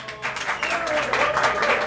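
Studio audience applauding at a casting show, steady dense clapping throughout, mixed with crowd noise and a faint voice.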